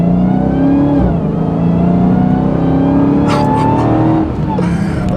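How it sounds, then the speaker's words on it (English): A 2021 Dodge Charger SRT Hellcat Redeye Widebody under load, its supercharger whine rising and falling in pitch over a deep engine drone, loud and close throughout, with a short lift-off and re-acceleration near the end. "supercharger whine gets me every time"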